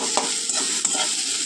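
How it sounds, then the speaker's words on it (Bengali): Boiled mashed potato filling for masala dosa being stirred in a frying pan, a soft sizzle with a few scraping spatula strokes over a short moment. "এবার জাস্ট শুধু এটা একটু নাড়াচাড়া করে নেব।"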